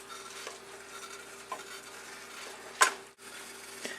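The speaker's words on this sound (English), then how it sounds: "you'll see that the liquid does bubble over a nice medium heat" Wild mushroom risotto stirred in a pan as the liquid bubbles over medium heat, with a soft, steady simmer, faint scraping strokes and one sharper clatter partway through, close and fairly quiet.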